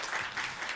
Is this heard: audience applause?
yes